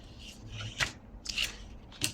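Several crisp scissor snips cut through paper, quick sharp strokes separated by short pauses, close up and alone.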